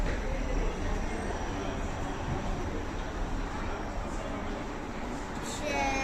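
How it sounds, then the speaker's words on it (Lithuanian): Aboard a metro train in Denmark, a steady, even rumble fills the carriage from start to finish, with faint hiss and no distinct voices standing out. "Važiuosime Danijoje su metro."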